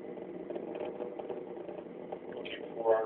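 Atlas V rocket engine with solid boosters during the Juno spacecraft launch, a steady broad rumbling roar held for about three seconds, with faint voices talking in the background.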